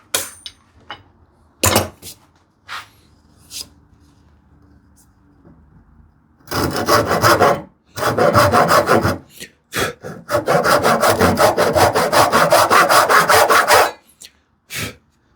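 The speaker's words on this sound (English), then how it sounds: "I'll use a dovetail saw" Dovetail saw cutting by hand through wood for a cupboard build, starting with a few short scratchy strokes, then long bursts of rapid rasping back-and-forth sawing, close up.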